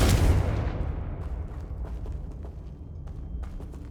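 A loud, close Confringo fire spell explodes in Hogwarts Legacy, a heavy boom with a rumbling burst that decays over a few seconds into a crackling tail with scattered small pops.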